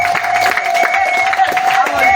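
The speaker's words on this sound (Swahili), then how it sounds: "Makofi." Wedding guests applaud, a dense burst of clapping and crowd noise that is loud and close, with a steady tone running underneath.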